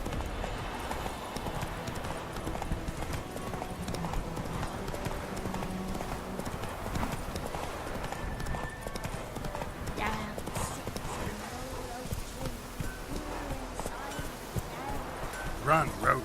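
Roach, Geralt's horse in The Witcher 3, gallops on with a rapid, steady clip-clop of hooves that lasts throughout, layered with game ambience and a brief whinny, while voices speak now and then.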